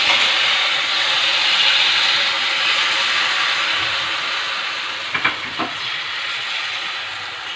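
Ghavan batter poured into hot oil gives a steady, loud broadband hiss that holds through the whole stretch, with a couple of brief clicks near the end.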